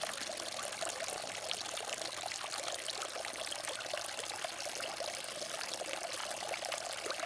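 Water pours into a backyard fish pond during a water change, a continuous close splashing rush that stays steady and loud the whole time, with no talking.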